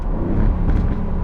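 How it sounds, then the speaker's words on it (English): A deep engine rumble with a brief rise and drop in pitch, like a car blipping its throttle on a downshift, loud and close with no talk. "Listen to this downshift"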